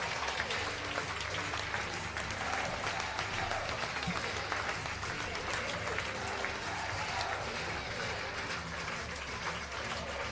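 Fans at a Prune Packers baseball game against the Santa Rosa A's rise for a standing ovation, a long, steady roar of clapping and crowd noise that stays loud and even throughout.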